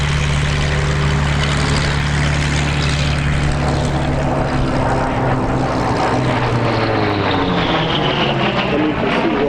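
A Grumman Bearcat piston-engine fighter roars past at an airshow at Sywell, its loud, steady propeller drone holding strong throughout before shifting in pitch as it passes.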